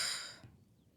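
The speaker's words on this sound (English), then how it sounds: "Take some nice deep breaths." A single slow, deep exhale during a Pilates workout, a soft breathy rush up close that fades out after about half a second into quiet room tone.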